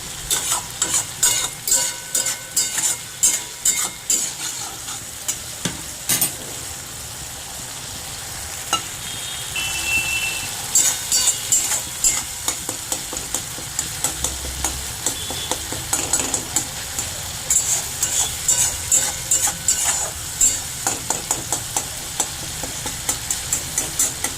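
Tomatoes fry in a pan for a prawn curry, a steady close sizzle running throughout with frequent sharp scrapes and taps of a spoon stirring against the pan.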